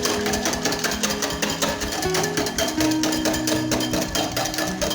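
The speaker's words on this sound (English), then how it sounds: "give that a very good whisk" A hand whisk beats milk and batter in a bowl for pancakes, fast steady rattling strokes close up at moderate volume.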